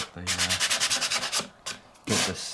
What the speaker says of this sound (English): get the sander on it